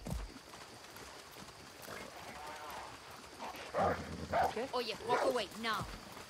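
A dog in the video game Far Cry 6 barks and yips in a rapid, loud burst near the end, while a horse is ridden in the background.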